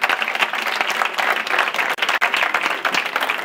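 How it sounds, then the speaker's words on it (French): A crowd at a 24-hour student innovation competition gives loud, dense applause, many hands clapping at once in a sustained, close roar with brief dips near the end. "Alors on les applaudit aussi, c'est les deuxièmes."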